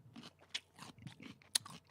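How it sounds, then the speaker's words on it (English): Crunching while eating chicken wings during a watch party for a Buffalo Bills vs NY Jets game: a series of close, crisp bites and chews in an uneven rhythm, a few sharper snaps standing out, with no talking. "But I don't want you to hear me crunching, so I'll be right back."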